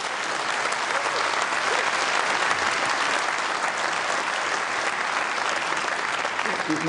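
Conservative Party members applaud a leadership candidate at a party event, a dense, steady wash of clapping from a large crowd filling the whole stretch without pause.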